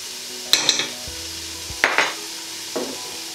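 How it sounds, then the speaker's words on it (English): A spoon stirs Cajun seasoning into rice and beans sizzling in a pan, making three separate scraping strokes against the pan over a quiet, steady sizzle, with no voices. "And then we're just going to give it another good stir again to get it all coated in the spice."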